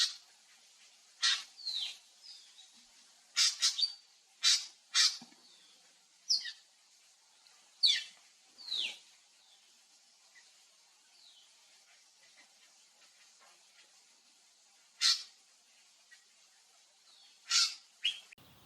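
Drongo calls ring out as sharp, bright chirps and short whistled notes, repeated irregularly with pauses between, fairly clear against a quiet, still background.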